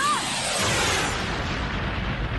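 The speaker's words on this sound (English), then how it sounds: "Even his explosions have his face on them." A loud, deep explosion from the Sonic the Hedgehog movie bursts in with a rumbling boom that rolls on and slowly fades over a couple of seconds.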